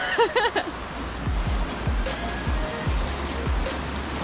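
A river in Senaru, North Lombok, rushes in a steady broadband wash near at hand, while a voice speaks briefly at the start and faint chirping calls sound over the flow.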